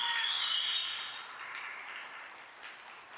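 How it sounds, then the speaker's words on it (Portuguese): A church congregation applauds during a revival service, a faint, steady wash of clapping that fades gradually over a few seconds with no voices on top. "Pode aplaudir."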